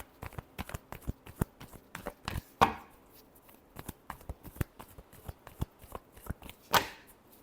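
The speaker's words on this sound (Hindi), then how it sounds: "Large shuffle." Tarot cards shuffled by hand close by: rapid repeated riffling flicks and soft slaps in an uneven rhythm, with two heavier cascading shuffles standing out.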